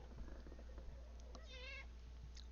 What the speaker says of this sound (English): This cat wants my attention every time I hop on the computer.